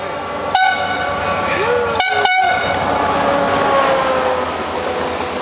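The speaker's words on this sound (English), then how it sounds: "long-distance commuter train coming into Sarria with probably a whole new batch of pilgrims coming up from Madrid" A long-distance commuter train pulls into Sarria station in Spain on a morning, its horn sounding in sharp blasts over the steady rumble and rail noise of the approaching cars.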